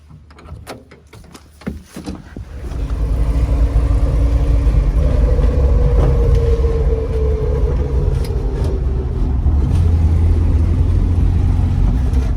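A Wolseley car with a big boot pulls away and drives on, its engine rumble rising after a couple of seconds into a steady, close, low drone with no talking.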